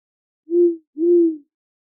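A voice imitates an owl with two low, smooth hoots in a row, the second slightly longer, clear and close against silence.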